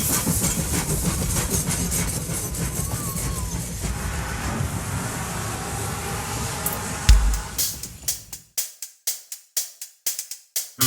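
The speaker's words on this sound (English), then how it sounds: "Can you hear the train coming?" A train rumbles past on the railway near the Carolyn Mines exit in the Coquihalla area. Its loud, continuous roar gives way to a rhythmic clickety-clack of wheels on rail joints toward the end.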